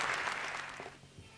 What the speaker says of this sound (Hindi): भाई जोरदार तालियां एक बार